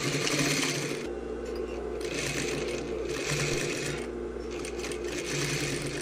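Sewing machine stitching a tailored sleeve seam, running in a steady continuous burr across the whole stretch with brief pauses and restarts, close and fairly loud, with no talk.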